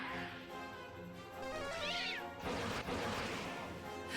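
A Vampire Cat monster in the video game Dragon Quest III lets out a synthetic meowing cry, clear and fairly loud over the game's ongoing background music.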